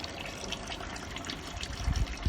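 Water drains steadily through a Hopcat brewing kettle, a continuous close gurgling trickle and rush that grows slightly heavier near the end.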